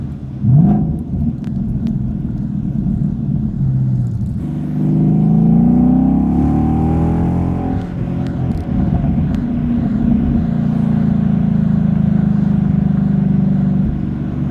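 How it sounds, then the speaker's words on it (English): A 2012 Ford Mustang Boss 302 with its 5.0 V8 rumbles loudly at close range, its exhaust climbing through revs to a throaty roar before settling into a sustained deep drone, with no talking. "The exhaust sounds so good on this car."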